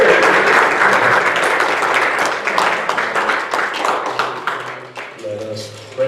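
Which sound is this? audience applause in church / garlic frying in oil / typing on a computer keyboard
audience applause in church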